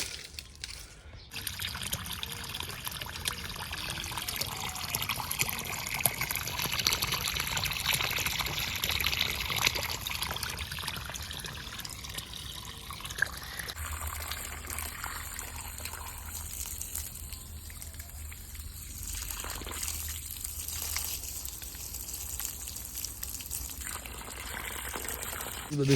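Irrigation water trickles and pours steadily across a farm field, a continuous wet flow that shifts partway through, with voices talking over it at times.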